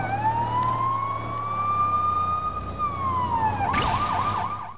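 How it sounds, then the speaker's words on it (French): Police car siren in Lego City Undercover on the Wii U, a loud wailing tone rising and holding steady for several seconds, then breaking into quick yelping warbles near the end. "moi je mets la sirène parce que j'aime bien la sirène"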